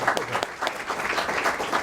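Clapping from an audience honoring two program instructors at a student logo reveal, a moderate, even patter of many hands over about two seconds.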